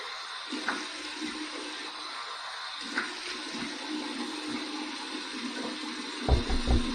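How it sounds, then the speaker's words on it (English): Warm water running in a bathroom sink as a face is rinsed after a shave with a Muhle R41 safety razor, a steady soft rush with a few splashes, louder at the end. "Here's my warm water rinse"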